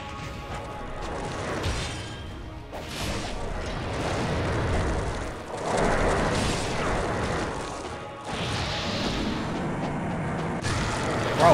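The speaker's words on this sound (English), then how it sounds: "I guess I can use the incendiary shurikens." Incendiary shurikens explode in Ninja Gaiden Sigma amid dense game noise, with repeated booms and crashes layered over a continuous rumbling, clattering backdrop.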